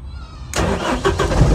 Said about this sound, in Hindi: गाड़ी स्टार्ट करो, इग्निशन ऑन करो, हाँ स्टार्ट करो